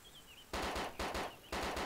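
Loud bursts of automatic gunfire in the video game ArmA 2 DayZ mod, three heavy volleys of rapid shots following a quieter opening moment, with no talking.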